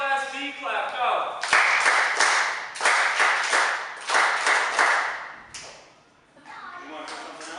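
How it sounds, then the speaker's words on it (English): A class of students at a school event claps together in unison, a run of sharp, synchronized group claps in quick bursts with short pauses between them, with voices and chatter mixed in around the claps. "let's see a Class B clap"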